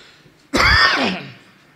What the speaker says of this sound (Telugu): కొద్దిగా దగ్గు ఎక్కువగా ఉంది ఈరోజు నాకు